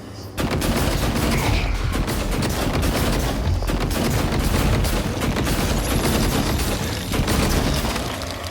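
Gunfire from weapons in the Prey video game, a dense, loud barrage of rapid shots and booms running almost continuously with brief breaks, no talk over it.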